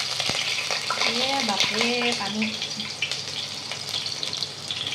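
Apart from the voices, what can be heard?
onions frying in oil with mustard paste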